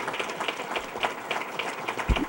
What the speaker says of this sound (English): Let's give him a round of applause, Howard Zemsky.